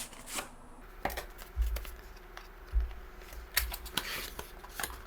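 A QCT T3 phone box, its plastic wrap already removed, is opened by hand: soft scraping, rustles and a few sharp cardboard clicks, close and quiet, with no talk.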